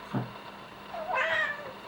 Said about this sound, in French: elle a un miaulement bizarre, je sais